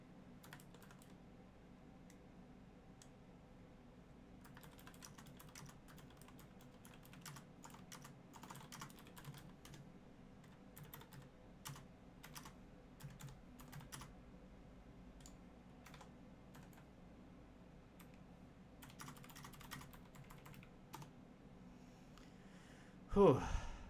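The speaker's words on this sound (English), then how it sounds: "My keyboard's being crazy." Rapid keystrokes on a computer keyboard clatter in uneven bursts across the span, close and fairly quiet, over a steady low background hum, with a louder bump near the end.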